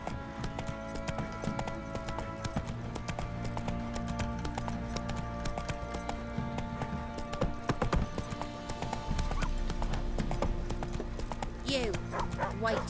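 Hooves of the horse Roach galloping in The Witcher 3 video game, a fast rhythmic clip-clop under game music and ambient effects, with dogs barking and a voice speaking at moments.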